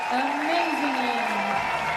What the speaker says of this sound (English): Just hear the crowd showing their appreciation there